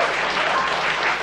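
Audience applause for the Depok mayoral and deputy mayoral candidates at a public debate, a steady, dense wash of clapping from a large crowd throughout.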